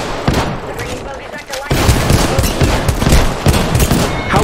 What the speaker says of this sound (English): I never miss shots with the fucking G7